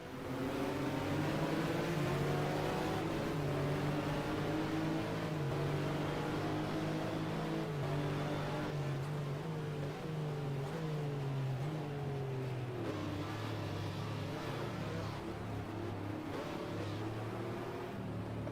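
A Porsche race car engine in the racing game GTR 2, set at the 2000 FIA GT Budapest 500km round and sounding unhealthy, drones loudly and steadily with sliding harmonic pitch as revs rise and fall, with no talk.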